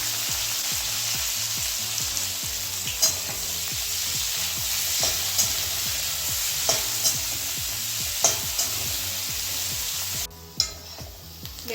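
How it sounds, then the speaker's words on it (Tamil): Two sliced onions frying with cardamom, cinnamon and green chilies for an egg dish, a steady close sizzle broken by regular scrapes and taps of a stirring spoon against the pan, no talking. "வெங்காயம் நல்லா பொன்னிறமாக வதங்கிடுச்சு."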